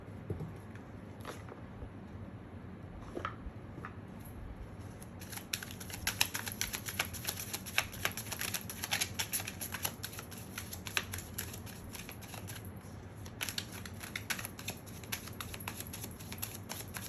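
Tarot cards being shuffled, a quiet, rapid riffling and flicking that starts sparse and becomes a dense, continuous patter of card edges, close and soft with no talk.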